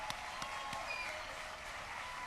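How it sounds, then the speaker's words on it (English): At a mayor's State of the City address in Yonkers, the audience gives faint, distant applause with a few sharper claps standing out from a soft, even wash. "let's give Lucia Travato a nice round of applause for all she does"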